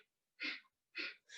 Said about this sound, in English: we're going to practice this breath of fire a few times